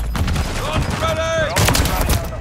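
Rapid gunfire from Call of Duty Modern Warfare 3 Warzone, loud and dense bursts through a busy battle with other game effects, with a voice speaking over it.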